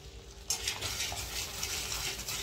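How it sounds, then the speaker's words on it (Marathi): Ground spices for a mixed vegetable curry (turmeric, cumin powder, red chilli, coriander powder and garam masala) being stirred and roasted in a pan, a steady soft sizzle with scraping strokes, close and continuous. "मसाला व्यवस्थित परतवला गेला आहे."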